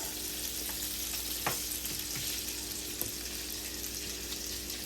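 Spam frying in a pan for an old-fashioned spam and potato breakfast, a faint, even sizzle with a few small pops and clicks.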